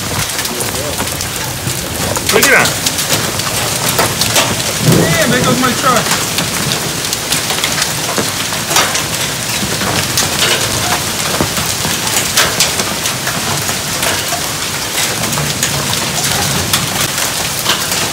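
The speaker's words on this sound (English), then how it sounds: "Holy cow, look at that hail. You can hear it." A dense, loud roar of hail pounding on surfaces, continuous throughout, with a voice speaking briefly over it.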